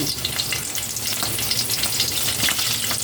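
Steady, close sizzling of garlic frying in a hot pan, a continuous crackling hiss with no talking.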